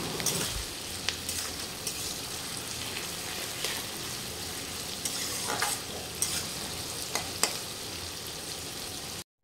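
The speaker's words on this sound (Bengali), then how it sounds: "ফার্স্টে কড়াইতে একটু সাদা তেল আর একটু সামান্য ঘি দিয়ে পেঁয়াজটা দিয়ে দিয়েছি" Sliced onions fry in a kadai of white oil with a little ghee, giving a close, steady sizzle with occasional scraping stirs throughout and no talking.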